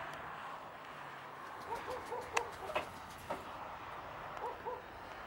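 Three Nikolaev pigeons settle in to land outdoors, giving soft flutters and faint coos amid a quiet, airy background, with a few brief taps and wingbeats in the middle.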